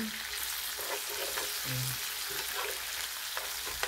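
Tilapia simmering in coconut milk in a pan gives a steady, close frying sizzle, with brief scraping and clinking as a spoon stirs it.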